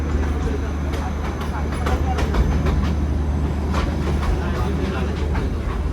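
The Darjeeling toy train runs along its track past houses, giving a continuous close rumble with repeated rhythmic clacks of wheels over rail joints.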